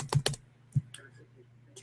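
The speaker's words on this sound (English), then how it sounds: "Okay, let me type in Tahiti." Keys clack on a computer keyboard as a place name is entered, a few quick close strokes with short pauses between them and a faint hum underneath.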